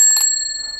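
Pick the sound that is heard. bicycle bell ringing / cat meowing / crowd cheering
bicycle bell ringing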